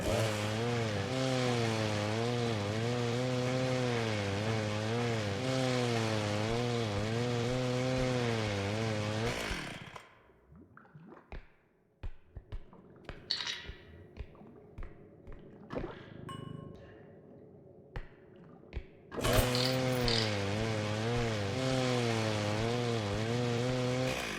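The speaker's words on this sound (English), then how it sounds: "Oh, a chainsaw. Wonderful." A chainsaw revs in the video game R.E.P.O., a loud sustained buzzing drone that cuts out for several seconds of scattered thumps and clatter, then roars back at full strength.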